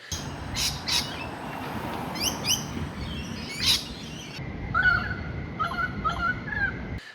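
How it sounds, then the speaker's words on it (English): Birds chirp and call repeatedly over a steady outdoor background hum in Australia, with sharp bright tweets scattered throughout and a run of quick calls near the end. "And so it's a lot of noise from the birds."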